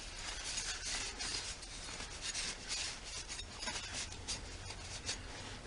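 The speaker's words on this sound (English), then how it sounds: "Then I'll take a dry rag and then go back over and try to wipe all the WD-40 off." A dry rag rubs WD-40 off a fan blade in quick, faint, repeated scrubbing strokes, close by, with no talking.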